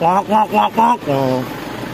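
A voice imitates the struggling starter motor of an old Toyota Innova diesel, four rhythmic groaning bursts followed by a longer drawn-out whirring tone, close and loud.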